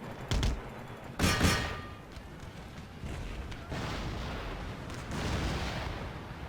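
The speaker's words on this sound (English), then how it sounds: "We've got to hunt down this artillery. It is going to absolutely destroy us otherwise." Booming artillery fire in the video game Empire: Total War, with heavy cannon blasts and thuds rolling in bursts across a loud battlefield, the strongest shots near the start.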